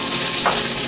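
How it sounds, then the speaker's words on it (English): Red onion sizzles in hot olive oil in a pan, a close, steady frying hiss with a brief louder burst midway, no voices. "a little olive oil in a pan, get that real nice and hot, add the red onion"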